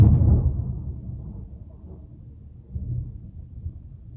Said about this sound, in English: that was lightning if you're curious